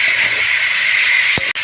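Ginger and chili paste sautéing in a pan with tilapia, giving a loud, steady, close sizzling hiss that runs unbroken before a brief dip near the end.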